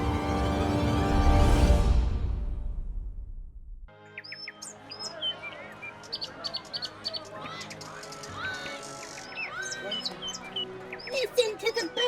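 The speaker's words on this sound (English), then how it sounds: "Listen to the birds sing!" Birds chirp and tweet in quick, scattered calls after a loud, fading resonant tone, with short trills repeating throughout at moderate volume.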